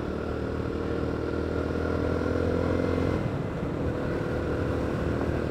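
Jawa 42 FJ motorcycle ridden with quick throttle flicks, its engine droning steadily and loud throughout, with a constant rumble and no talking.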